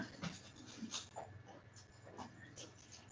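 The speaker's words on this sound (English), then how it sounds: "My dogs are trying to say hello." Dogs panting and whimpering close by indoors, soft breathy huffs with a few thin whines scattered over several seconds, moderately quiet.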